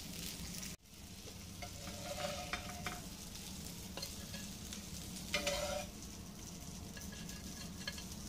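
Curly fish frying in a pan with oil, a steady close sizzle broken by stirring and scraping, with a brief dropout near the start and a louder spatter burst around the middle.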